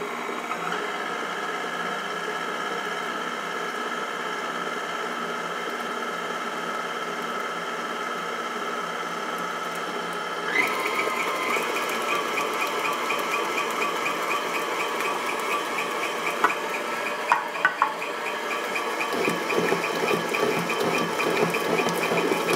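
An electric stand mixer whirs steadily on slow speed, beating Boston cream pie batter with milk and flour being added, a continuous mechanical hum that grows slightly louder and busier partway through, with a few faint knocks near the end.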